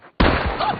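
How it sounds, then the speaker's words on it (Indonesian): A single sharp gunshot from a film scene, a bear-thriller movie set in the woods, erupting loudly after a brief quiet moment and trailing into a dense, rumbling echo that fills the rest of the moment. "Sayang Bob melihat dan langsung menembak tangan David."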